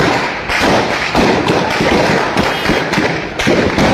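Gunfire in Pakistan-occupied Kashmir: a rapid run of sharp, booming bursts repeating roughly every half second, loud and reverberant, with no talk over them.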